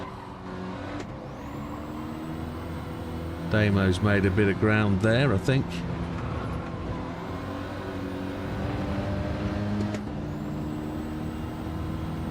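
Race car engine droning steadily in a Clio Cup racing video game, a continuous mid-level tone that rises briefly and sharply in the middle, with someone talking over it.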